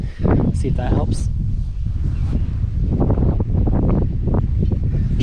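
Steady, loud wind buffeting a microphone outdoors, a continuous low rumble that runs the whole time, with speech heard over the gusts.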